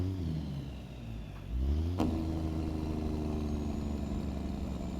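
A heavy truck engine in American Truck Simulator drones, its pitch dropping, then shifts into a rapid, rumbling Jake brake chatter that continues steadily at close range.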